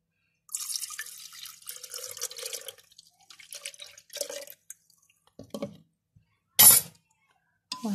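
Milk poured into a bowl of eggs, salt and pepper for cannelloni batter, a short liquid pour followed by scattered clinks and taps against the bowl, close and fairly quiet.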